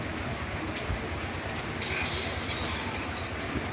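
Steady, dense hiss of September rain falling during a flood, constant and moderately loud throughout with no clear voices.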